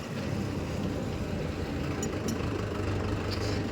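A Mahindra Yuva Tech+ 585 tractor engine runs steadily, giving a continuous low diesel rumble and drone, close and fairly loud throughout, with a couple of faint higher clinks partway through.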